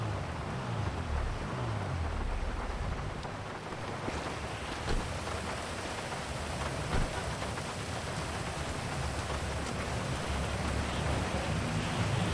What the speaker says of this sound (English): Yeah, it is so rainy, it is not fun.